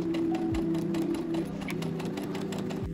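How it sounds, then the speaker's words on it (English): A sewing machine running a line of stitches to close an elastic waistband, steady close mechanical whirr at a constant pace with a couple of short pitch drops. "Next, you'll sew one line of stitches on both sides of the opening, like this, to close the waistband and secure the elastic in place."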